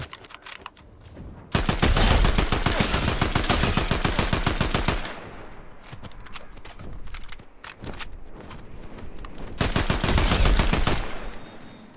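Rapid bursts of automatic gunfire from a first-person shooter video game, loud and close, with long sustained volleys separated by shorter scattered shots and brief pauses.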